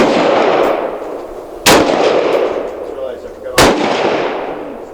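Two loud, sharp rifle shots from a V Seven Enlightened rifle firing Hornady Black 62 grain ammunition, spaced about two seconds apart over the steady hiss and murmur of a busy outdoor range.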